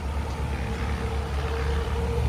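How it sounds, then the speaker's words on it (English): A school bus arriving at an airfield fly-in event gives a steady low engine rumble, close and continuous, with no voices. "This is the school bus from the Rain Academy."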